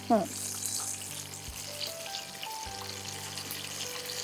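Tomato bondas fry in a pan with a soft, steady sizzle, opening with a brief knock and carrying on evenly without talk.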